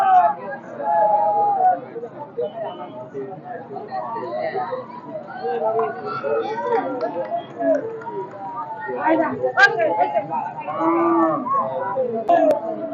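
Cattle unloaded from boats at a busy riverside cattle market low and moo repeatedly, close and loud, over a steady babble of people talking nearby.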